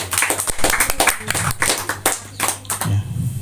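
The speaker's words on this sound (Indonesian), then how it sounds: "Kita berikan aplaus sekali lagi buat" Clapping hands at a gathering after a religious talk, a close, dense burst of claps lasting a few seconds with a brief voice near the end.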